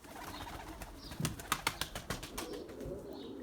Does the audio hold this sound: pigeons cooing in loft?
yes